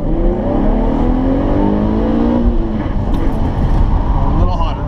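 A car engine revving hard while drifting, a loud, continuous roar with pitch rising and falling through the revs, close and steady, while someone talks over it.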